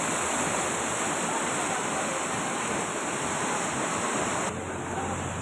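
Floodwater from cloudburst rain rushing across an open market ground, a loud unbroken roar of moving water with wind buffeting, steady throughout and with no talking.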